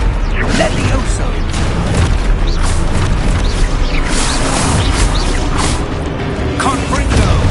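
A Levioso spell cast in Hogwarts Legacy, heard as a busy magical swoosh and rumble within dense, continuous game effects, with voice-like sounds mixed in.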